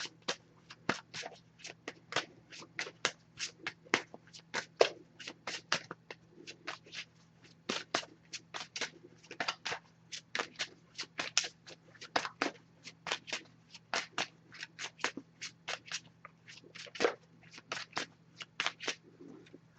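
A deck of oracle cards is shuffled by hand in quick, rhythmic riffles and snaps, dozens of crisp close flutters repeating steadily over a faint low hum.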